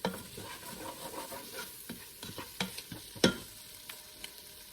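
Tomatoes sauté in a pan with a soft, steady sizzle, broken by scattered scrapes and clicks of stirring and one sharper knock near the end; moderately quiet and close, with no talking.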